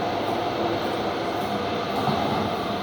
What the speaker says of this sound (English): You can see the southbound trains coming in on the other track there.